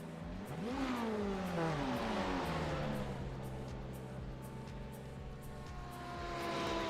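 A GT3 race car in iRacing at Daytona sweeps past with a rising then falling engine pitch, followed by a steady loud engine drone that swells again at the end.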